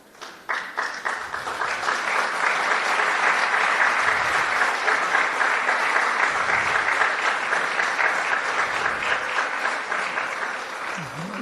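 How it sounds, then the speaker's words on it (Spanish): Lecture audience breaks into sustained applause after a talk on education, starting with a few claps then swelling into a steady, full round that holds without speech. "Gracias por los aplausos"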